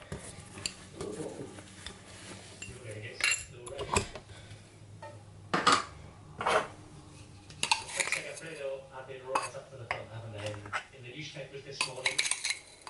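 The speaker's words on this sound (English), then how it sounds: "Thanks for washing the dishes, Angie." Dishes, pots and cutlery clinking and clattering in a home kitchen sink during washing up, with scattered sharp clinks and knocks over a low hum, some louder clanks close by.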